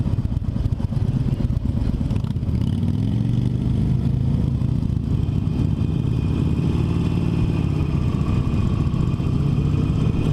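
Harley-Davidson Forty-Eight V-twin motorcycle engine running steadily and loudly up close during a first ride, a continuous low throbbing rumble with pitch rising and falling as the bike changes speed, no talking.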